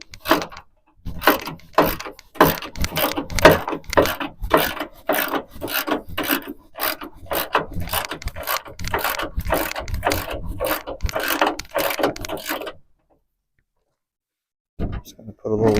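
A ratchet wrench loosens the last bolt on a 1967 Lincoln trunk lid with a long run of close, rasping clicking strokes for about thirteen seconds. It then goes silent before a brief return of sound.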